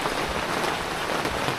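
Steady rainfall hisses evenly and close by, a continuous wash of drops with no voices over it.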